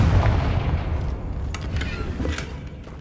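Confringo fire spell exploding in the Hogwarts Legacy video game, a heavy low rumbling blast that rolls on and fades, with a few sharp crackles over the decay.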